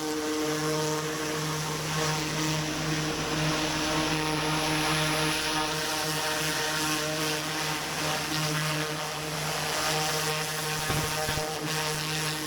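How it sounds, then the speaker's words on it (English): Pressure washer nozzle spraying to clean around the engine of a corn planter, a loud steady hiss with a droning motor tone held throughout, close and unbroken, with no talking. "I pressure washed a lot of it, and I'm just going to use the nozzle to clean out around the engine a little bit better."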